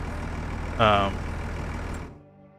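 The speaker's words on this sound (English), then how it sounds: "That truck sounds really damn loud." A truck engine in the Farming Simulator 25 video game gives a steady low rumble with a short louder surge near the start, then fades and cuts off.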